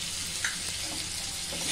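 Turmeric is stir-fried in a hot oil tempering for a cauliflower and potato curry, giving a steady, close sizzle and hiss with faint scraping of the stirring spoon throughout.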